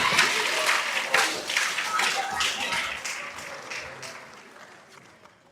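A freshman awards day audience applauds the students, a dense crowd of clapping hands, strong at first with a few sharper nearby claps, then gradually thinning and fading out over several seconds.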